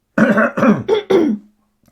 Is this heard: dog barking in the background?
no